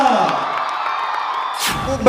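An audience at a film promotion event in Shivamoga cheers and whoops for a guest, a sustained crowd roar with a brief louder burst toward the end.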